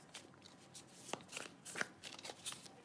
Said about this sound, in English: However, they are massive and difficult to shuffle.